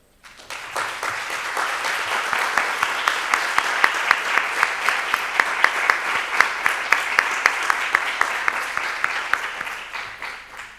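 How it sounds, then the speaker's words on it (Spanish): Audience applause for a speaker at a symposium on colonial memory: clapping swells quickly from silence into a full, sustained round with some sharper claps standing out, holding steady for about ten seconds, then tapering off at the end. "quiero pedir un gran aplauso"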